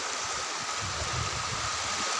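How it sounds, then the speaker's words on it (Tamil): Floodwater rushes over a road and bridge after a washout, a steady broadband roar of churning water with low turbulent rumble, continuous and close throughout. "இவ்வளோ தண்ணி போயிட்டுருக்கு"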